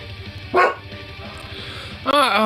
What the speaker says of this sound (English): That would indeed be the noise of a dog.